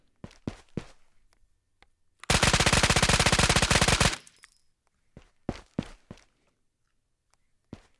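A burst of rapid automatic fire from the Val rifle in Ghosts of Tabor, a VR shooter, lasting almost two seconds, loud and close. Scattered single clicks and footstep-like knocks come before and after it.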